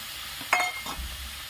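Soaked ground spices for a vegetarian fig curry hit a pan with a brief, faint sizzle and a quick scrape of stirring, then a soft low frying hum.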